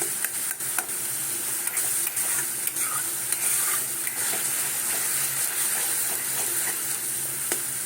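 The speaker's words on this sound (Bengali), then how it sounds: "ওই জন্য এরকম কন্টিনিউ নাড়ছি আমি" Spices and green peas are stirred continuously in a hot pan while making doi kopi with cauliflower and potato, a steady close sizzle with repeated spoon scrapes and soft clicks throughout, no talking.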